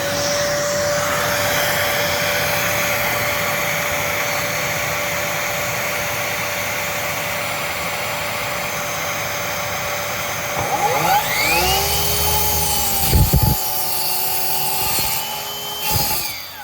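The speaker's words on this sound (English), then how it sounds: "so you can just get your chop saw in here" A chop saw spins up indoors after a steady whirring drone, its motor whine rising and then settling, with a few sharp knocks near the end, on a site where timber studs and CLS lengths are being cut.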